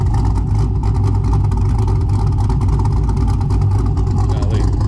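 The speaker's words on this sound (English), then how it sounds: "I just love the idle we haven't had a car that idled like this here in a while" A car engine idles steadily outdoors in cold weather, a deep, loud, lumpy rumble held throughout with a slight rev near the end, with people talking nearby.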